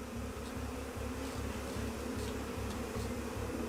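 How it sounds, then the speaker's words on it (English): A swarm of bees droning continuously at close range, thick low buzzing with rapid rhythmic pulsing and occasional faint higher clicks, heard alone without speech. "That's a lot of bees."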